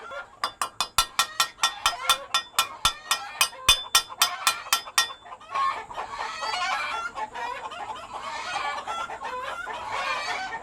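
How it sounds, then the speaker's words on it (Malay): Rapid rhythmic clucking from a stressed Warwick chicken, sharp and repeated, gives way to a noisy jumble of many backyard free-range chickens squawking and clucking together. "Kalau bila ayam bising-bising macam ni, maknanya dia dah tertekan lah"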